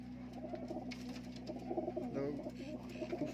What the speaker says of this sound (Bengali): ওটা নর পায়রা ছিল, এটা মাদা আছে।